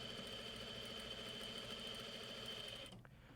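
A Juki DDL-8700 industrial sewing machine runs steadily with its upper thread tension set very loose, a fast even whirring hum close by that cuts off sharply near the end.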